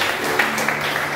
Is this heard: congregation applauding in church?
yes